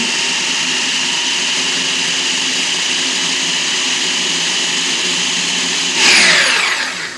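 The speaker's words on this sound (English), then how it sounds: "we're just going to pulse those vegetables until they're chopped up" A food processor chops vegetables for seafood gazpacho, a steady loud motor whir that surges briefly near the end as a pulse kicks in, alone without talking.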